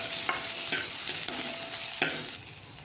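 Chillies, curry leaves and asafoetida sautéed in a pan for buttermilk kadhi, with a steady close sizzle broken by several sharp stirring scrapes of the spoon against the metal.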